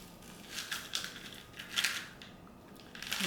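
Old orchid bark tipped out of a pot while repotting a Phalaenopsis orchid, heard as a few rough, crinkly rustles and clatters of loose bark pieces spilling out, close by and fairly quiet.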